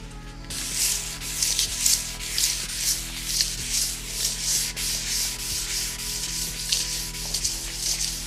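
A table saw top being sanded by hand with 1200 grit sandpaper: a close, continuous rhythmic rasping of paper rubbing back and forth over metal, over a steady low hum, with no talking.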